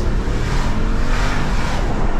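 A Mercedes V8 car is driven at full throttle, its engine roaring loud and close as it accelerates hard. The roar holds strong and unbroken through the brief burst, with no talking.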